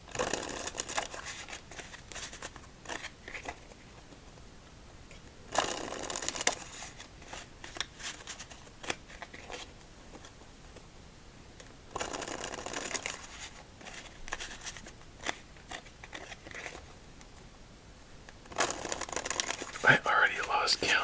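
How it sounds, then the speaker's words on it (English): Several bursts of a Tally-Ho playing card deck being riffled and bridged, crisp fluttering shuffles separated by quieter handling, close and moderately loud. "let's give this deck 5 shuffles"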